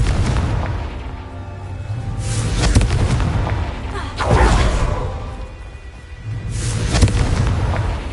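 Spell-cast explosions from the Confringo charm in a video game, several loud booming blasts with whooshing bursts, spaced a couple of seconds apart over a low rumbling background.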